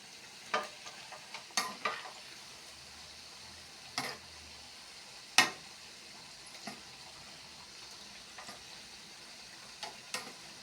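Palm fritters (pitha) fry in hot oil with a soft steady sizzle, broken by sharp clicks and taps of a utensil stirring the pan at irregular intervals.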